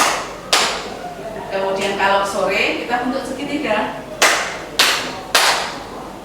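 Class of pupils clapping in rhythmic patterns during a classroom exercise, sharp group claps breaking out over a teacher's voice giving instructions, with a cluster of three loud claps near the end.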